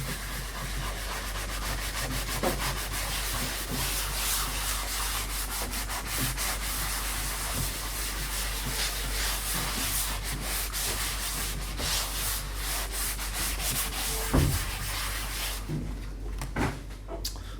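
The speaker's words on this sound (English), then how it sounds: "it's a simple sand, just take the edges or take the rough bits out of the filler" Filler on car leather being hand sanded: steady, close rubbing and scraping strokes that continue for a long stretch, with a brief knock and some handling noise toward the end.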